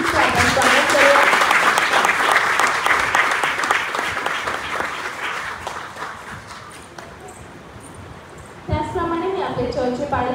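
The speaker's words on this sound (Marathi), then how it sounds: "जोरदार टाळ्या वाजवून या पूर्ण टीमचे आपण स्वागत करूया" Strong applause from a church congregation welcoming a team fills the space, loud and dense at first, then thinning out before a voice speaks over the fading claps.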